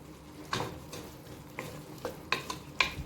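Sweet corn tipped into a pan of frying pasta sauce and stirred, giving a low sizzle broken by several soft scraping stir strokes and light clinks, close and fairly quiet, no voices.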